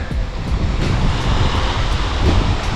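Wind gusts across open sea during wing foiling, a steady broadband rush and buffeting against the microphone mixed with surf and water noise, close and loud throughout.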